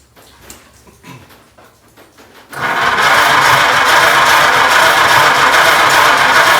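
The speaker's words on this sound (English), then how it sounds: "Go ahead and crank this one, if you would, Dad, please." A 1926 Oakland car engine is cranked over. Faint knocks and rattles come first, then it catches and settles into a loud, steady, even idle that runs to the end.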